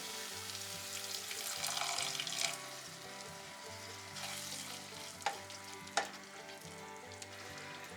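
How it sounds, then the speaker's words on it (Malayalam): Boiling water is poured into a simmering potato butter masala in a pan, bringing a bubbling sizzle with a few sharp spoon scrapes and knocks as it is stirred, fairly close and steady. "ഇതിലേക്ക് കുറച്ച് തിളച്ച വെള്ളമാണ് ഒഴിക്കുന്നത്"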